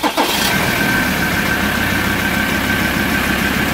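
A Ford Ranger 3.2 diesel engine cranks briefly and catches, then settles into a loud, steady idle with a constant rumble and a faint whine, heard close up during an oil pump replacement.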